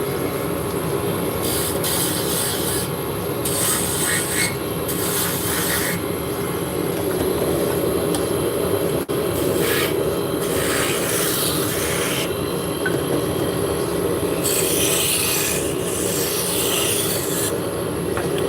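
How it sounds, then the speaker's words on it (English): A lathe turns hard maple into shafts for Turkish drop spindles, giving a loud, continuous rasping hiss that swells and eases in repeated bursts as the cutting tool bites into the spinning wood. "we are turning hard maple on the lathe and making shafts for Turkish drop spindles"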